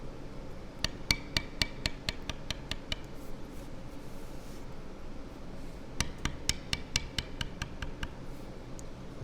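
A beveling tool is struck on tooled leather for a wallet in two quick runs of sharp, evenly spaced taps, close and crisp over a low background hum.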